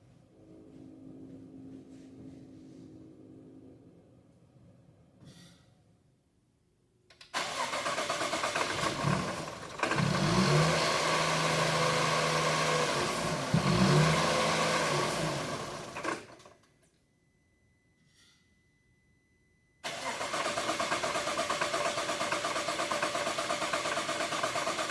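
A Jaguar Land Rover engine cranked and started, with a low idle first, then a roaring surge of cranking and running that cuts off, a brief quiet gap, and a second loud start.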